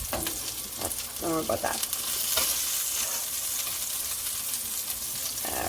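Beef burger patty frying in oil in a pan, loud continuous close sizzling and crackling, with a brief spoken remark near the start.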